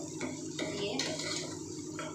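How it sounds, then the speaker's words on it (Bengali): A spoon scraping and clinking against a pan as spiced food with coriander powder and salt is stirred, soft and close with a few sharper knocks. "ভালো করে নেড়ে নেব।"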